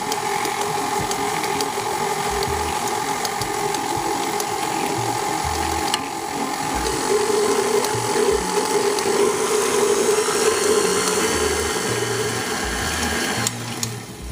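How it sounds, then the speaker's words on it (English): Electric stand mixer running steadily on low speed for banana nut bread batter, a constant mechanical whir with a rhythmic clicking, gear-like rattle throughout, close and fairly loud. "I'm going to put my mixer back down, lock it in, turn it on low speed"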